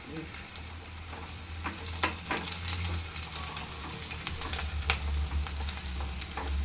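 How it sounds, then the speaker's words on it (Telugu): Whole spices and a bay leaf frying in hot oil until golden for an Andhra-style dish, a steady close sizzle with occasional crackles and stirring scrapes, no talking. "గోల్డెన్ కలర్ వచ్చే వరకు వేయించుకుందాం. బిర్యానీ ఆకు కూడా వేసుకుందాం."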